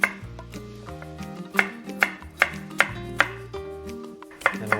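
A knife chops a carrot on a board for soup, giving steady evenly spaced thuds about twice a second, close and clear, with a faint musical bed behind and no talking.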